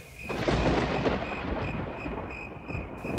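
Deep rolling thunder rumbles continuously over a steady wash of rain, loud and sustained throughout.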